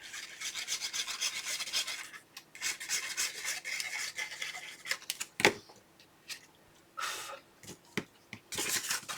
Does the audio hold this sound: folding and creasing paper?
yes